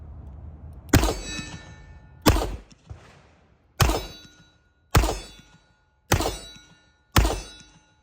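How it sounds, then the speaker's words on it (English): .38 rounds fired one after another from a Smith & Wesson 681 revolver, six sharp loud cracks spaced about a second apart, each with a quick decaying tail and quiet between. "I'm gonna shoot some 38s through it."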